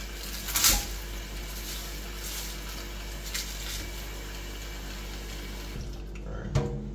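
Tap water runs into a cooking pot while Jamaican oxtail and rice and peas are prepared, a steady faint stream with a low hum underneath and a couple of brief clinks.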